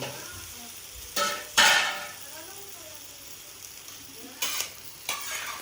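Fried chicken pieces and tomatoes are stir-fried in a pan for burnt chicken fried rice, with a few sharp, separate scrapes and clatters of the spatula against a quiet sizzling background.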